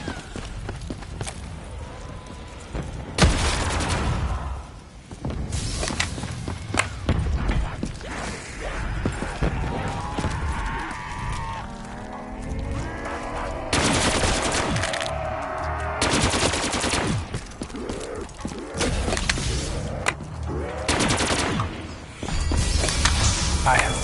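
Video game gunfire: several bursts of rapid automatic shots, loud and close, spread across the scene and separated by stretches of game sound and talking.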